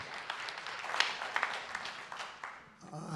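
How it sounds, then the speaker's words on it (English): Audience at an annual congregational meeting giving a round of applause, soft, diffuse clapping from a room of people that fades near the end, with a few sharper claps standing out. "Let's give him a round of applause."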